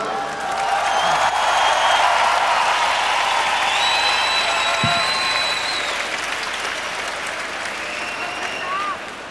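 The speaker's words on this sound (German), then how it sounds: "Ey, Mathilda, dein Applaus." A live studio audience at a televised concert gives a girl named Mathilda a long, full round of applause, dense and steady clapping that slowly thins out, with faint voices and cheers mixed in.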